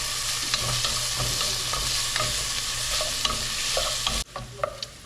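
Bacon fries in a pan in a home kitchen, a steady close crackling sizzle with scattered pops and a stirring scrape, cutting off sharply near the end to quieter spits.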